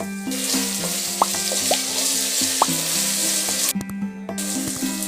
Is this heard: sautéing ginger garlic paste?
yes